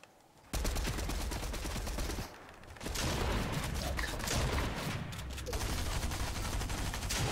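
Gunfire in the video game Fortnite: dense, sustained bursts of shots that pause briefly and then resume, loud and close throughout.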